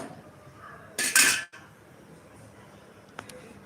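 Pots, pans and utensils clatter in a home kitchen during cooking, one loud burst of metallic banging followed by a faint clink, with quiet room noise around it.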